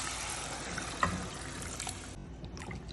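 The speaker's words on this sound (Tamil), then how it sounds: "சேர்த்து அந்த தண்ணி நம்ம ஊற்றிக்கலாம்." Water is poured into a pot of thoothuvalai rasam with tamarind, a steady close splashing trickle with one brief louder splash before it thins out.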